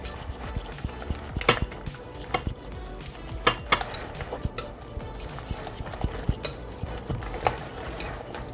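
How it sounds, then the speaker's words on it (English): Eggs being whisked in a bowl for a banana breakfast muffin batter, with a fast, steady run of clinking, scraping strokes close by that carries on throughout. "I'm gonna whisk this"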